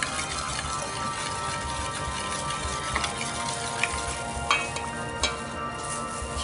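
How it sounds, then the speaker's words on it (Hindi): Chicken pieces for crispy Hyderabadi-style broast frying in hot oil, a steady dense sizzle with scattered crackles and pops throughout, close and fairly loud, with no voices. "चिकन पीसेस डाल रही हूँ"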